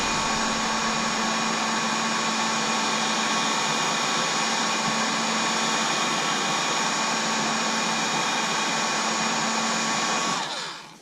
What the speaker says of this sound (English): You can almost see it starting to straighten out as I hit it with the heat.